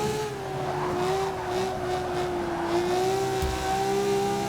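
Ferrari 250 California engine in the Forza 6 racing game, held at a steady drone through a downshift, with a clear rising and falling engine tone running throughout at close range.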